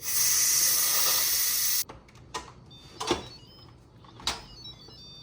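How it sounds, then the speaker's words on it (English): An electric pressure cooker releases steam after cooking a pot roast, a loud steady hiss that cuts off abruptly after about two seconds, followed by a few scattered clicks and clatters. "I need to go ahead and let the steam release."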